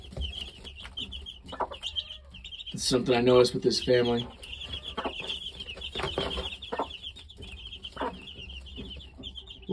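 Young Asil chickens, a mix of stags, hens and pullets in winter, cluck and chirp repeatedly nearby with a loud burst of calls midway, while a person talks quietly over them.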